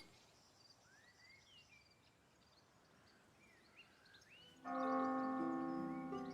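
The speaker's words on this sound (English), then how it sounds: "Is the bell going to toll here for my" A church bell in the Norland video game rings out with a single resonant strike that rings on, following a quiet stretch of birdsong and insect chirps.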